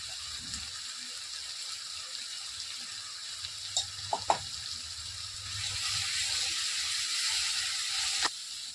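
Onions and tomatoes with chili powder sauté in a pan for chicken curry, giving a soft steady sizzle with a few light utensil clicks, the hiss growing louder and denser toward the end.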